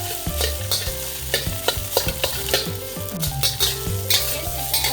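Oil sizzling in a hot pan with eggs being broken up for hibachi-style fried rice, steady frying hiss punctuated by repeated scraping and tapping of a utensil against the pan, close and fairly loud.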